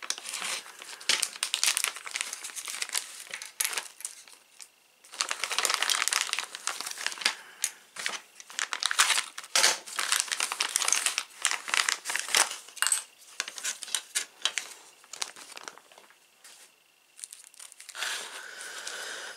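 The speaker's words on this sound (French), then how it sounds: "Je vais les déballer en même temps que vous." Plastic packaging crinkles and rustles as DeLorean model kit parts, including a plastic centre console, are unpacked, close and busy in uneven bursts with short pauses, with no speech.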